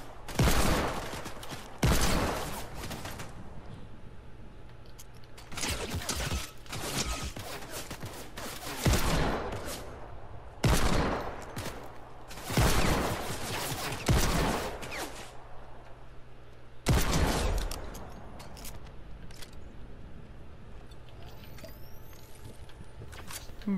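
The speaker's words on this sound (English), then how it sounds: "They had the close quarter tactical assault rifle." A close-quarter tactical assault rifle in Fortnite fires in repeated sharp bursts every few seconds, loud against quiet game ambience.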